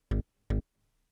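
Prog-style bass synth patch built in Serum with randomized oscillator phases, playing two short, loud, harmonically rich hits about half a second apart, then silence.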